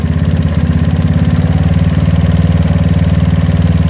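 A GY6 scooter engine fitted with an OKO PWK 30mm carburetor idles loudly and steadily up close, its even low thrum pulsing in a fast regular rhythm without revving.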